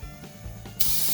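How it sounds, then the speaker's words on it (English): A spray gun hooked to an air compressor sprays primer in a loud, steady hiss that starts abruptly partway in and continues to the end, with a faint compressor hum beneath. "we're going to go hook it up to the air compressor and we're going to start priming."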